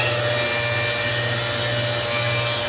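A jointer planes a rough piece of wood in a steady, loud whining drone that holds without a break.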